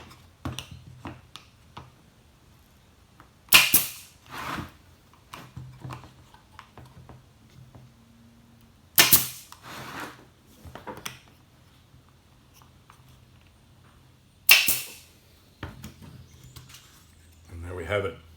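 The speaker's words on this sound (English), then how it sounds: "It's just a matter of coming in now with the staple gun." A staple gun drives staples into wooden comb honey section frames held in a jig, with three sharp, loud snaps spaced several seconds apart. Quieter handling clicks fall between them.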